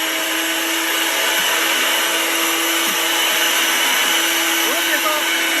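A pipe threading machine runs steadily for pipe work on hot-water floor heating, a continuous broadband motor whir holding a constant hum throughout, close and loud, with faint scraping in the background.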